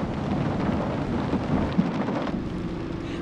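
Heavy rain pours down in Metro Manila, a steady dense roar of rainfall with low rumbling thunder underneath and no talk, loud and continuous throughout.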